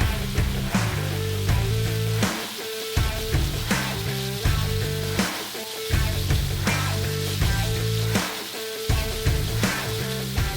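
Tequila lime shrimp in a garlic, lime and tequila marinade sizzle steadily on a Blackstone griddle, a loud, continuous hiss broken by rhythmic scraping and clattering of a spatula.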